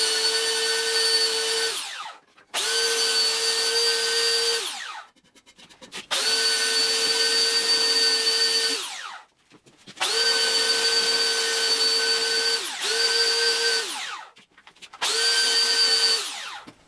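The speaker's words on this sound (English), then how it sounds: "Just put it in there with the belt sander, and now Andy's going to go in over the" A belt sander rounds the back of a wooden guitar neck in six loud, close bursts of steady abrasive whine, each a couple of seconds long, separated by short pauses.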